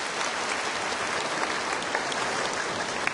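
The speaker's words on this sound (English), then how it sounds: "Please give him a very warm round of applause" Warm audience applause in a lecture hall as a speaker on global warming comes to the podium, a broad, steady patter of many hands clapping with a few sharper claps poking through.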